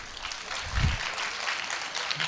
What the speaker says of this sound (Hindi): हाँ तालियां बजा दीजिए